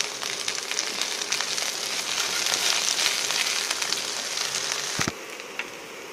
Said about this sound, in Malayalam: വെണ്ടയ്ക്കയും കൂടെ ചേർത്ത് 1-2 മിനിറ്റ് നന്നായിട്ട് വഴറ്റണം.